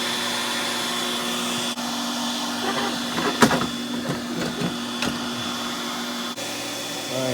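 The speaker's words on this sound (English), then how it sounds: "Cut the vacuum, turn it to exhaust." A vacuum motor switched to exhaust runs with a steady whine and hum, briefly interrupted by a few clicks and knocks as it keeps blowing.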